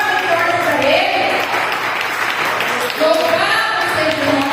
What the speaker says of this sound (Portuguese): Vai bater palmas e forte para Ele.